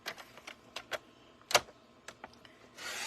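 Paper trimmer cutting card stock lengthwise: a series of soft, scattered clicks and scrapes, one sharper slicing swipe mid-way, then a brief rising rustle at the end, quiet and close.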